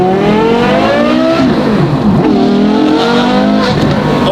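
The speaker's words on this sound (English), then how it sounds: "this is a much better exhaust system in sound" A Porsche Carrera GT fitted with an Inconel F1 exhaust revs hard and close, its engine note climbing and falling through several sweeping blips that stay loud over the whole stretch, with no talking.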